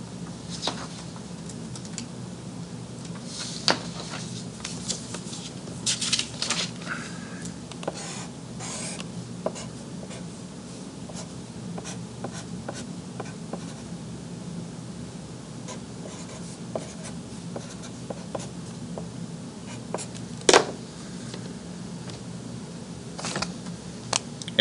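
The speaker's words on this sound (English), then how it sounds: "I'll draw it on the paper" Pen scratching across paper while a math graph is sketched by hand, a steady close run of soft strokes and taps with short pauses, no voices.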